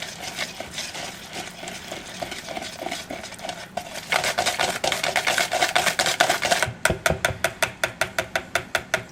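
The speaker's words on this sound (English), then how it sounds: "Once again, use the whisk to get a really nice batter." A whisk beats banana cobbler batter in a bowl, first as a soft scraping swirl, then louder and faster, ending in a run of sharp rhythmic clicks against the bowl, with no talking.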